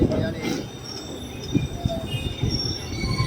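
Kerala Express train entering Coimbatore Junction: wheels screech and squeal along the rails, and metallic clanks and rolling rumble pass close by, with no talking.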